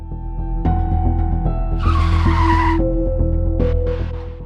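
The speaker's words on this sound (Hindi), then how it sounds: "गाड़ी अचानक रुक जाती है," A car's tires skid and squeal as it brakes to a sudden stop on a deserted road at night, a loud screech rising over a steady engine hum and fading into short follow-up squeals.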